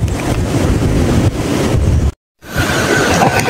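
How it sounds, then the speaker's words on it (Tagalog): Strong wind roars over open water in the mangroves, a loud, gusty buffeting rush on the microphone that cuts out for a moment before returning. "Ang lakas ng hangin oh."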